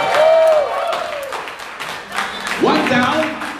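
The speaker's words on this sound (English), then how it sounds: "Ladies and gentlemen, let's give her a Dubai applause." A Dubai concert audience applauds a singer, loud clapping and cheering mixed with sung or amplified vocal tones and stage voices. It swells briefly at the end.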